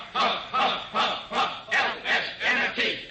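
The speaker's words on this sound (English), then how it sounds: "Hey, listen to the cheering section." A football game cheering section chanting in unison, a crowd shouting rhythmic syllables in about eight evenly spaced bursts, loud and close in a radio comedy setting.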